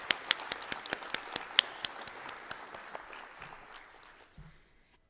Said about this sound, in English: So huge round of applause to the organizers.